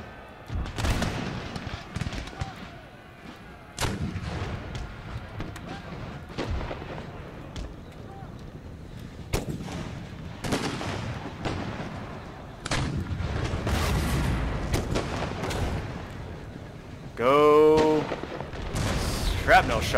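Shrapnel-shot artillery fires in a Darthmod-modded Empire: Total War battle. Repeated booming volleys and crackling gunfire fill a dense, steady battle din, with one sharp ringing burst near the end.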